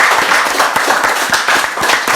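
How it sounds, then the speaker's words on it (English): A round of applause for a goalkeeper after a Kennedy Cup shootout, recorded on a casual podcast; dense, steady clapping from several people holds loud and close for about two seconds with no talk over it. "Absolutely. Round of applause for Oren."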